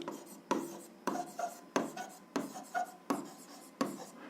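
A pen writing an answer to an algebra exercise on paper, seven or eight short scratchy strokes in quick bursts, close and quiet, with no talk.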